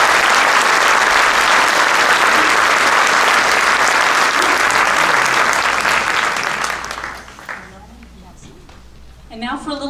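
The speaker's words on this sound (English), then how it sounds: "if we can give them one more round of applause" Loud, dense audience applause fills a school choir concert hall, fading after about seven seconds into quieter clapping and murmuring with faint voices at the end.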